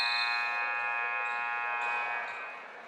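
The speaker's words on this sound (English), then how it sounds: "that is the halftime buzzer, and Dunlap with a 3-point advantage heading" A long, steady electronic buzzer sounds for halftime at a varsity boys high school basketball game, holding at an even level for about three seconds before cutting off, with faint gym ambience and no talking.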